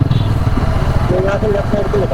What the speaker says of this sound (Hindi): बाइक चल रही है एटलीस्ट